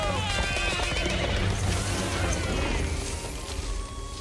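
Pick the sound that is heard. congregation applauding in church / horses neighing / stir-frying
horses neighing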